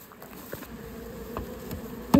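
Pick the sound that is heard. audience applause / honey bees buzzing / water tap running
honey bees buzzing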